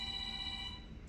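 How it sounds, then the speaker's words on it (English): A shop telephone rings with a steady electronic tone, a cluster of sustained pitched partials holding through the whole short moment at moderate level over low background hum. "sorry, the shop phone."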